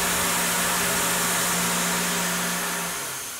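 A machine engraves metal with a high-speed steel tool, giving a loud continuous whine with a steady hum that drops in pitch and fades slightly at the end.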